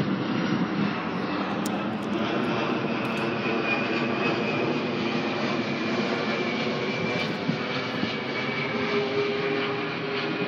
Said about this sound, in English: There's another aeroplane as well.